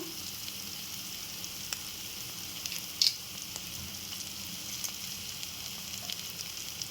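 Curry leaves sizzle in hot fried masala oil, a steady, fairly quiet crackle with a few small pops and one brief louder burst.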